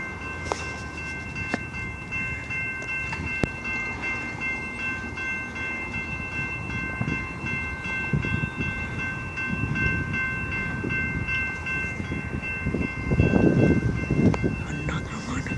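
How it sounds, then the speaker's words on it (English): Amtrak P42DC Genesis diesel passenger train passing at over 70 mph on a BNSF line at La Grange, Illinois, with crossing bells ringing, a horn blast and a rising roar of the cars rushing by at close range. "Train's right there."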